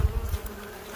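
Bees buzzing close by near a hive in the Arizona desert, a steady low hum that lasts about a second with no talking.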